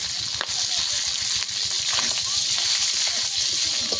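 Golden fish frying in hot oil in a pan, a steady close crackling sizzle that runs unbroken throughout.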